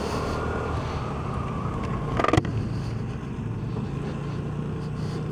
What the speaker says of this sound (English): Bike we're on today is a 2008 Vespa LX150